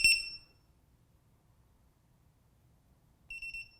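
A loud ViFly drone finder LED beacon squeals in short, shrill, high-pitched bursts, one at the start and another near the end, with quiet between them.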